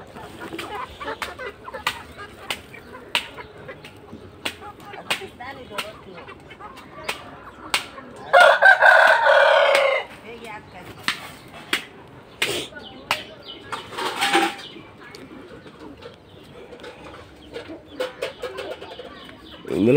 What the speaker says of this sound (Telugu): ఇవి 4 months దాటిన కోడి పిల్లలు